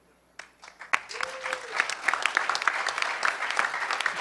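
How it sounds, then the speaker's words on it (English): Audience at the HOPE hacker conference applauds the hackerspaces.org panel: after a brief tone and a sharp knock, clapping builds quickly into a steady, lively round with distinct individual claps standing out. "Huge round of applause for hackerspaces.org"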